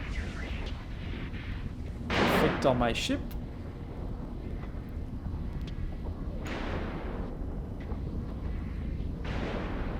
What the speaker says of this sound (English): Another explosion right there.